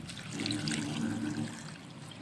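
Water gushes in a steady, close stream into a cooking pot holding cut, deseeded spine gourd pieces, then eases slightly toward the end.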